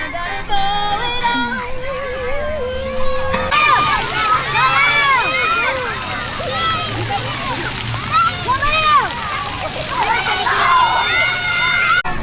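Splash pad water splashing and sloshing continuously under lively children's voices and chatter, with a fairly loud, busy outdoor wash of spray throughout.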